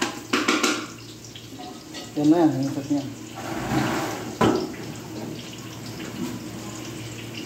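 Water runs from a tap into a cooking pot in a home kitchen, a steady pour with brief splashing. People talk over it throughout.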